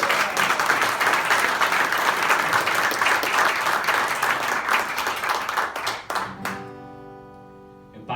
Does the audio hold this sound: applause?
yes